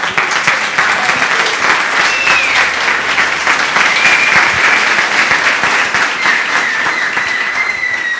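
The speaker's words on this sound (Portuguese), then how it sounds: "Palmas para o nosso Deus." Church congregation clapping in praise during a worship service, loud sustained dense applause throughout with a faint voice or tone running underneath.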